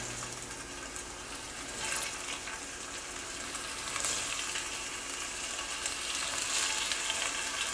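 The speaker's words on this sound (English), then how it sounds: "Right, here's a sizzle." Flank steak sizzles in a hot pan with a steady, hissing, crackling fry that swells slightly now and then, moderately quiet and with no voices.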